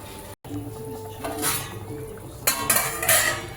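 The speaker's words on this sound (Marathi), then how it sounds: "आता मी याला झाकण लावून घेते" Metal lid clanks onto a pressure cooker several times, sharp clinks and scrapes spaced over a few seconds against a quiet kitchen background.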